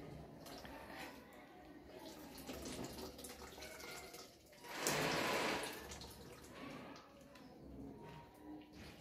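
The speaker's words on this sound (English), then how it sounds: "Then the last part is just to hand wash." Hands being washed under a running tap after newborn cord care, a steady splash of water that swells loudly around the midpoint before settling back to a softer flow.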